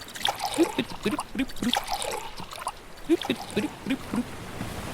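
Water is poured into glasses at a small restaurant table in short trickling bursts, close and fairly faint, with a few pauses between pours.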